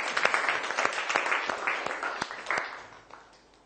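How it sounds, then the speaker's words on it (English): A classroom of pupils claps together for a few seconds after a maths lesson answer, a dense patter of hand claps that peaks early and then thins out and fades. "Give me a big clap"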